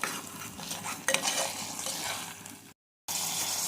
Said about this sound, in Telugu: ఈ పేస్ట్ అనేది పచ్చివాసన పోయేంత వరకు మనం స్లైడ్గా ఫ్రై చేసుకుందాం.